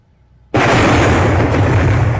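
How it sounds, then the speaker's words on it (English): Tank main cannon firing in the animated series Red vs Blue, a sudden loud blast after a quiet moment, followed by a sustained roaring rumble that holds to the end. "Firing main cannon."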